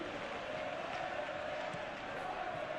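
Football stadium crowd at Real Madrid versus Barcelona in LaLiga, a steady broad roar of thousands of voices, sustained and even throughout.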